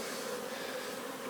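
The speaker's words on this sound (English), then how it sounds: "There's a lot of bees." Honeybees buzzing densely around an open beehive during a walkaway split inspection, a steady close drone with no talking.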